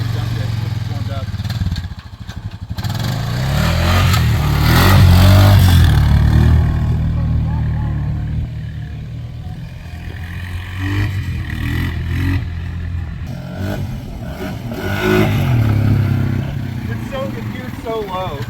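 Honda Foreman ATV on its first ride, a long test through water, engine rumbling and revving up and down while riding, with clatter and wind noise and someone talking over it.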